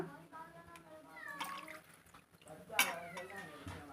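Cut fish pieces being washed in water with a hand, producing soft splashes and sloshing and one sharper splash midway, under a voice talking.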